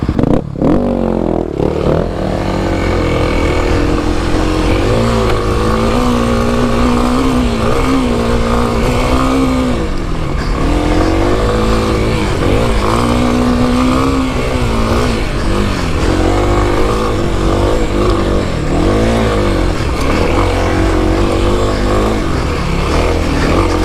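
A 2021 Kawasaki KLX300 dirt bike is ridden hard off road on hilly trails, its engine revving and climbing through gears continuously and loud at close range, with clattering and scraping from the rough terrain.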